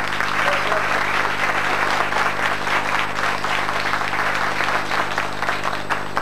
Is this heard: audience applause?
yes